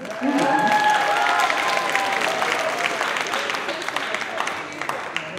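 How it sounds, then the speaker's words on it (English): Audience applause at a high school talent show, a full crowd clapping loudly right away, then a steady, slowly thinning wash of hands, with a faint tone and some murmuring mixed in. "a quick round of applause for Erin for helping us hook things up."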